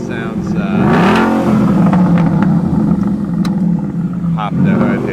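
A 2013 Ford Mustang Boss 302 V8 roars close by, revving up and down with a throaty exhaust rumble, and people talk over it.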